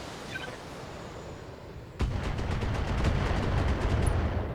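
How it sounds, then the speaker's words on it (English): LRM missiles and a large laser fired by a mech in the BattleTech game: a sudden loud blast followed by a rapid, rattling barrage of launches and impacts over a steady rumbling background. "We're going to hit this guy with the LRMs. And we're going to hit this guy with the large laser."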